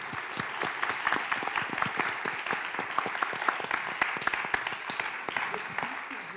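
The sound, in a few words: audience applause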